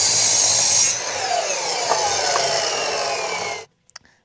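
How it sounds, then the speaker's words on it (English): A power saw cuts an angled piece off a short length of 2x4 lumber with a loud, close, steady whirring rasp that eases slightly partway through, then stops abruptly, followed by a few light clicks. "you're going to need to get about a 4-inch piece of 2x4 and cut it at about a 15-degree angle"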